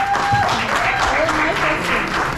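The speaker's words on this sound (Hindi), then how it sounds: "तालियां प्लीज" Audience applause for a choreographer at an interview event, a short burst of clapping from the crowd heard under a voice that talks over it throughout.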